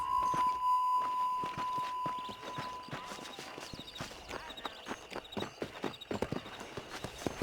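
Horse hooves clip-clop at a walking pace while riding in the video game Red Dead Redemption, close and rhythmic, with a faint steady tone in the background.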